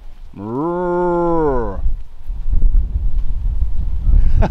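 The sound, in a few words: cows mooing in African bush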